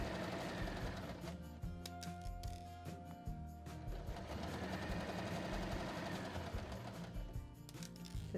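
A sewing machine runs steadily while stitching a double fabric bag, a close, continuous mechanical rattle with brief pauses and restarts and no talk.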